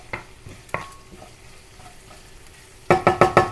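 Curry leaves, chili, garlic and ginger frying in oil make a soft, continuous sizzle, with a few spoon strikes early on and a quick run of four sharp scraping knocks against the pan at the end.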